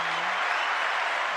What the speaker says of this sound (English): give a round of applause for Dre